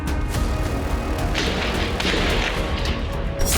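Fighting at Qalandia camp near Jerusalem brings a dense run of gunfire and booming blasts, with sharp repeated cracks and a few heavier bursts over constant rumbling background noise.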